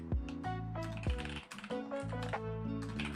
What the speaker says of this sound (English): My typing on this keyboard has become so much more proficient.